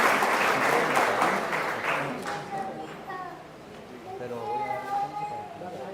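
Church congregation applauding a newly welcomed child, Emmanuel, at a baptism; dense clapping fills the first seconds, then thins and fades as a voice and other chatter rise over it.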